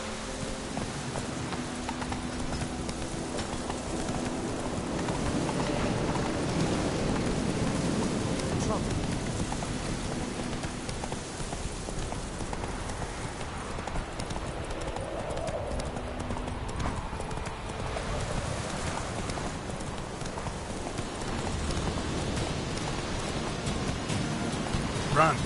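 Roach the horse gallops in The Witcher 3 with a quick, continuous clip-clop of hooves, heard close and steady beneath rain and the rumble of a stormy game world.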